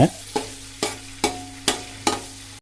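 Onions sauté in hot oil for turkey biryani while a spoon scrapes the pan in a steady rhythm, roughly twice a second.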